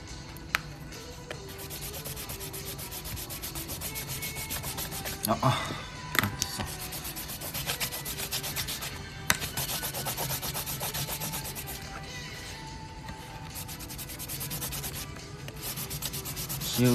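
An eraser rubbing away pencil sketch lines on paper, a steady scratchy scrubbing that continues close-up for many seconds, with brief louder scuffs and occasional quiet talk in the background.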